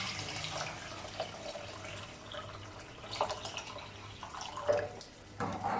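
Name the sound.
water poured into pot for masar rice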